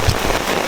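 Steady rain patters on a camping setup during a storm, a dense close hiss with no voices.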